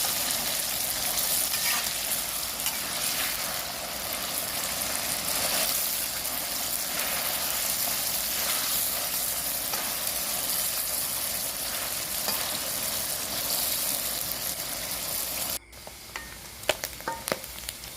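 Pork frying in oil in a pan, a steady, dense sizzle that runs unbroken and fairly close for most of the clip, then drops off abruptly near the end, leaving a few faint clicks and clatters.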